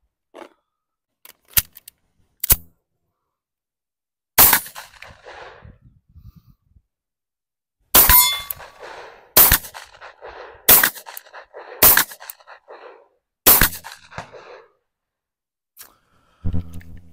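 A Tisas 1911 Carry B9R 9mm pistol fires Winchester white box ammunition: roughly eight or nine sharp, loud, close shots in an irregular sequence, each a crisp crack with brief ring-out, separated by quiet pauses.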